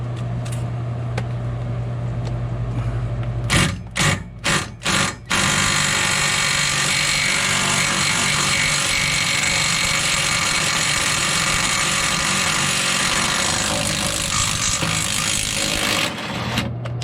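A small power drill works a rear shock bolt on a 2006 Ford Escape: a steady mechanical whir broken by a cluster of four or five sharp, choppy bursts, then the drone running on close and loud.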